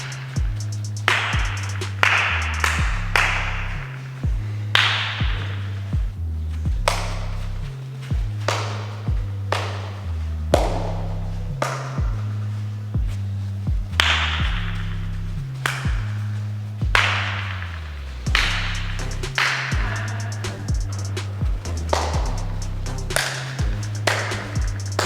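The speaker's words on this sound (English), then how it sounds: "I'm gonna clap and he's gonna switch direction" Sharp single hand claps ring out at irregular intervals during backwards-running speed drills for change of direction, each a crisp close smack over a repeating low musical backing.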